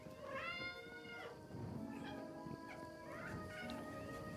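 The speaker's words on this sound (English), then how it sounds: "We do still hear the meowing." Cats in the medieval video game Kingdom Come Deliverance 2 meow repeatedly, several drawn-out calls in a row, set against a quiet ambient background.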